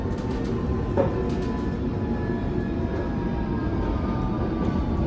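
Steady low rumble and rattle of a moving train heard from inside a carriage, continuous and fairly loud with no talking.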